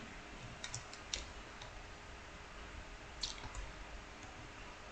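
Computer keyboard keys tapped in a few quick clusters of faint clicks, with a short pause before a final press, in a quiet room.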